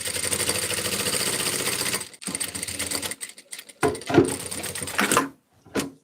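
A sewing machine stitches a bomber jacket seam about 5 mm from the edge, running in a steady close burst for two seconds, then stopping and starting in short uneven spurts with quiet gaps.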